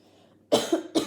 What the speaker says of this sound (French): je suis désolée pour ma toux